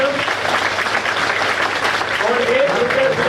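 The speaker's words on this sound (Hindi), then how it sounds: "जोरदार करिए तालियां।" Loud applause from a large audience at a ceremony fills the space continuously, with a voice faintly audible underneath the dense clapping.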